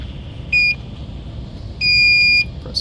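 Two electronic beeps from a Grav M20 engraving machine: a short one, then a longer steady tone, both high-pitched and clear over a low background hum.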